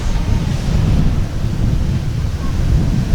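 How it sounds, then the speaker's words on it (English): Strong wind buffets the microphone at an RC flying field in a constant low roaring rumble, gusting unevenly throughout with no other clear sounds. "it is like super windy right now"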